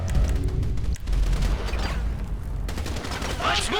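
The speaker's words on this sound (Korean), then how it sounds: "위쪽에서 쏘고 있는 놈들을 또 잡아내야겠습니다 어 밑에서 네 마이클이 네 바주카포로 쏴버렸어요" Dense gunfire and heavy blasts, including bazooka shots, fill a firefight in the video game GTA5, a continuous loud barrage of shots and booms with no pauses.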